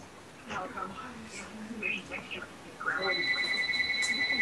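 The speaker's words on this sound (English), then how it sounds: "Phone's ringing." A telephone rings during a Minecraft session, a bright repeating electronic ring that starts partway through and stays steady beneath people talking.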